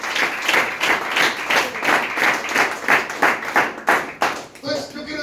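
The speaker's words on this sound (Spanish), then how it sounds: "Aplauda al Señor por un instante." A church congregation claps in a fairly steady rhythmic beat, the sound close and full, with voices mixed in, before the clapping breaks off near the end.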